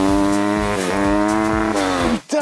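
Engine in a standing-start acceleration bouncing repeatedly off the rev limiter, a loud, close, buzzing tone that climbs and stutters back in rapid cuts several times before dropping away.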